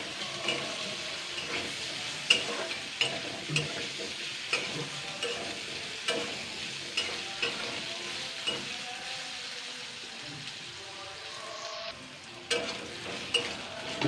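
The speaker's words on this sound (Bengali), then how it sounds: "এবার আমি পুরোপুরিভাবে ফ্রাই করে নেবো আলুটাকে" Potato pieces with salt and turmeric frying in a pan for a pumpkin dish: a soft continuous sizzle broken by regular spatula scrapes and knocks about once a second, fairly quiet and close.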